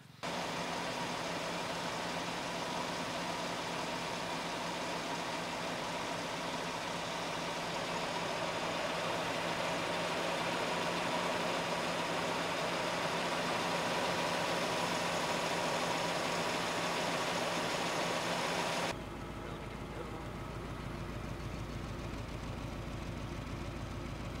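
Engine of a 1972 Mercedes 280 SEL running steadily with a continuous, even drone for about nineteen seconds, then abruptly dropping to a quieter, lower rumble; no talking.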